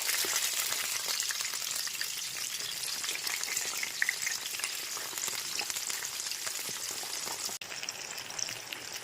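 Vegetables sizzle steadily in hot oil in a wok as tomato, aubergine and potato are added, a dense, continuous crackle with soft stirring throughout and no talking.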